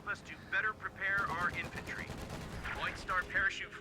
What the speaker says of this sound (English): this is a 50 caliber USF machine gun